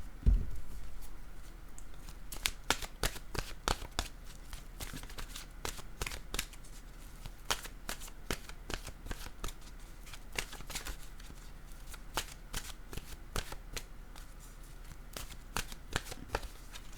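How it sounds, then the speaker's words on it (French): A deck of oracle cards being shuffled by hand, with a steady run of crisp riffling flicks and card slaps repeating close up for the whole stretch, no voices. "Je vais piger une carte de mon oracle de l'âme intuitive pour elle."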